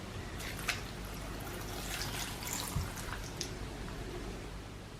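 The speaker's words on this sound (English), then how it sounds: "So I'll be adding 2 cups of water." Water is poured from a cup into a blender holding cabbage and cucumber, a steady close splashing trickle with a few brighter gurgles and drips, with no voices.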